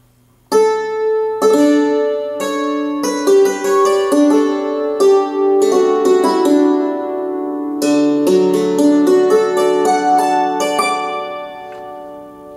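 A sampled hammered dulcimer from the Cinematique library in Kontakt, played with hard mallets, rings out in a flurry of bright struck notes and chords with long shimmering decay, loud and alone.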